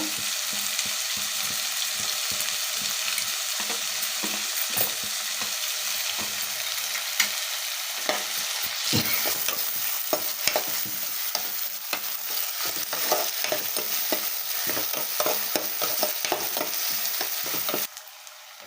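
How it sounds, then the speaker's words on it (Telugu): Chopped onions fry in hot oil in a pan for a ridge gourd curry, giving a steady close sizzle broken by frequent scraping stir strokes, with no talking. "ఇప్పుడు మనం కట్ చేసి పెట్టుకున్న ఆనియన్స్ అయితే వేసుకొని ఫ్రై చేసుకోవాలండి గోల్డెన్ బ్రౌన్ కలర్లోకి వచ్చేదాకా"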